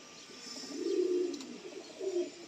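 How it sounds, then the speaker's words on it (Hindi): Soft, low coos from breeder pigeons, two drawn-out throaty calls a moment apart, fairly close against a quiet background hum. "ये ब्रीडर कबूतर हैं"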